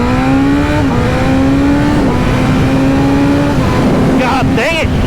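A BMW M1000RR superbike launches at full throttle under launch control, its engine note climbing steadily in a loud, sustained high-revving wail with brief shifts, while a rider's voice cuts in near the end.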